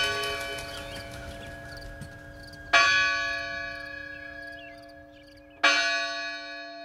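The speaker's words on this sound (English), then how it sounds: "The chimes from the church tower meant that it was time to put down your tools." Two loud church tower bell strikes ring out a few seconds apart, each leaving a long shimmering hum that slowly fades.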